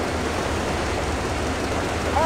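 A steady low mechanical rumble drones on evenly throughout, like a rail car engine idling in Metro Exodus, with a faint high tone swelling near the end.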